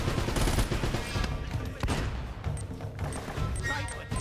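Video game gunfire from Uncharted, a dense run of rapid shots and clatter that fills the whole stretch at steady loudness, with a voice talking over it in places.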